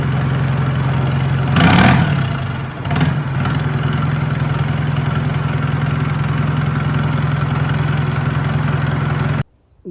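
An engine with the race opened up and a changed silencer idles loudly and steadily nearby. One brief rev surge comes early before the engine settles into a constant drone, then cuts off abruptly at the end.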